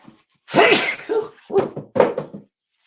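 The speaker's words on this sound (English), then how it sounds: "I feel like I'm going to sneeze." A single person's sneeze during a spoken presentation about a company's return, a sharp burst followed by a couple of shorter, breathy bursts, close and fairly loud.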